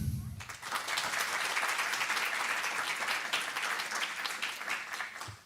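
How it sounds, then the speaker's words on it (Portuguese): Audience applause greets a string quartet member being introduced at an evening chamber music concert: dense, steady clapping that starts just after a brief voice, holds for about five seconds, then cuts off. "Uma salva de palmas, por favor"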